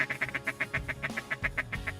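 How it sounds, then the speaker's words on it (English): Rapid, evenly spaced quacks blown on a Jensen Classic double reed duck call made by Sure Shot Game Calls in Groves, Texas, about a dozen loud close raspy notes with a few low thuds underneath. "The Jensen Classic is the first ever double reed duck call."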